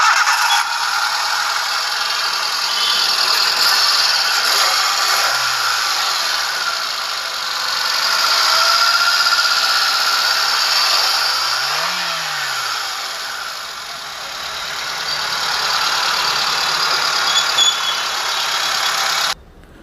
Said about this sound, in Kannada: ಕೇಳ್ಕೊಂಡ್ರಾ ಇಂಜಿನ್ ಸೌಂಡು ಹೆಂಗಿದೆ ಅಂತ